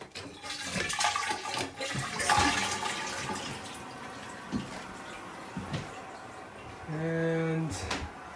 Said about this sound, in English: Toilet flushers.